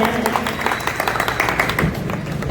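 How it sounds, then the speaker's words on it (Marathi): Loud applause at a Sant Ravidas Maharaj Jayanti community function as a guest is honoured: dense, continuous clapping from an audience, steady and close throughout. "सरांकरिता जोरदार टाळ्या."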